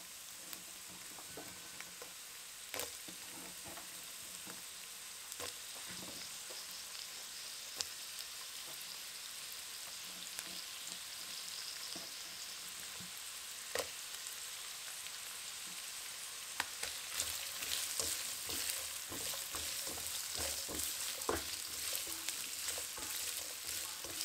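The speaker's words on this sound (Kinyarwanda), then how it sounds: "Turaza guhera kuri karoti kubera arizo zitinda gusha, aba arizo tubanza dukarange." Sliced carrots frying in a little oil in a pan, a steady close sizzle with occasional stirring scrapes and clicks that grows slightly busier toward the end, with no voices.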